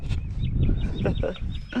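Several chickens cluck and murmur close by in short, overlapping calls, with no talking.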